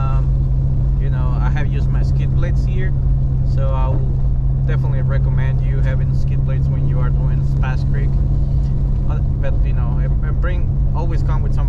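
A Jeep Renegade driving off-road on a trail, with a steady, loud engine drone throughout and a person talking over it.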